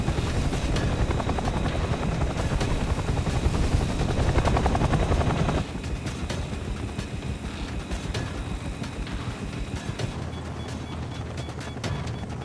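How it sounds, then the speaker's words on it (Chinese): A helicopter comes in to land on the deck of a ship under way at sea, its loud, steady rotor roar filling the scene and easing slightly about halfway through. "准备直升机着舰"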